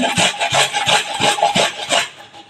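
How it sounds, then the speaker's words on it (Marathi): Cucumber is grated on a fine hand grater in loud, close, rhythmic rasping strokes, about two or three per second. "मी बारीक किसणीने किसून घेते."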